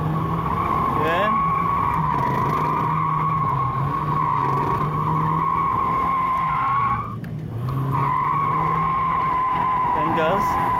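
A car drifts under throttle at a winter drift event, its engine holding a loud, steady high drone with tire squeal throughout, briefly easing near the end before surging again, while a man repeatedly urges more throttle over it.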